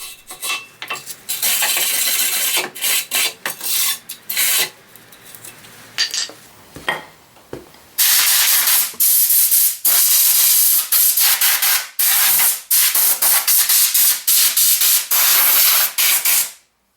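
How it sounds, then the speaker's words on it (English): A wire brush scrubs the rear brake pad housing and surrounding area on a Skoda Superb with an electronic parking brake. Loud, rhythmic, harsh strokes come close up in repeated bursts with short pauses. "give the pad housing and the surrounding area a good clean with a wire brush"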